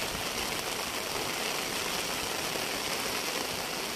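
Steady, dense broadband hiss of heavy rain pouring continuously over rice paddies, with a low rumble underneath and no voices.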